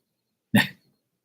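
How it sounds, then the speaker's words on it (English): A dog lets out a single short, sharp cough-like bark, close and fairly loud, in otherwise total silence. "This damn dog makes some noise."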